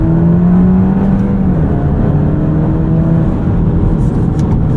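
A 2023 Alfa Romeo Giulia Estrema's engine drones loudly from inside the cabin while driving, its pitch sweeping down as revs fall with a shift, then holding steady under constant road and wind noise.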